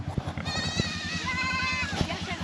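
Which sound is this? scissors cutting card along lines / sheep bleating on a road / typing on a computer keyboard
sheep bleating on a road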